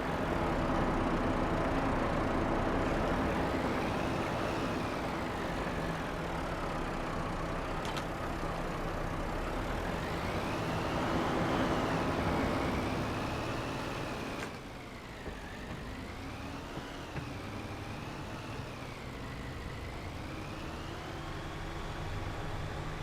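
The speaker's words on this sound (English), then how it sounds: "I think you can hear it's a slightly higher pitch engine." Vintage tractor engine in Farming Simulator 22, a steady low rumble with a faintly higher-pitched drone that rises and falls in slow waves, running continuously at moderate level with a slight drop partway through.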